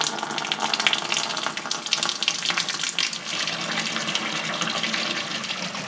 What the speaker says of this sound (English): just turn your tap on and you can start filling your washing machine